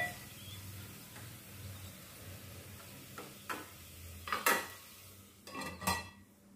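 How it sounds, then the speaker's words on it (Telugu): Vegetables for a veg corn soup stirred in a pot over a low flame, with a few spaced scraping knocks of a spoon against the metal building to clustered clatter near the end, over a quiet low hum and no talk. "ఈ వెజిటేబుల్స్ అన్నీ అడుగు పట్టకుండా మనం తిప్పుకుంటూనే ఉండాలండి."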